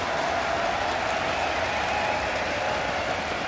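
Steady, dense applause from a large arena crowd at the CS:GO PGL Major grand final in Antwerp, a continuous roar of clapping.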